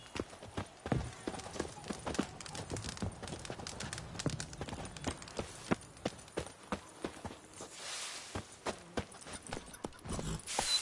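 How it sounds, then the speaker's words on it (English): Horse galloping in The Witcher 3 on PS5: rapid, steady hoofbeats clip-clopping throughout, fairly close and prominent, with a brief whinny-like rise near the end. "If a horse drops as you ride it with a constant gallop."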